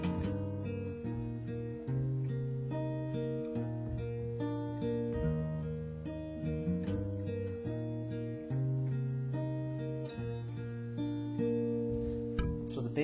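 An acoustic guitar plays the repeating opening bass-note riff of a song, tuned a half step down, with sustained low notes ringing in a steady pattern and no talking.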